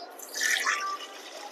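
Water runs and splashes briefly as mutton pieces are washed, a soft, close trickle that swells for a moment and then settles.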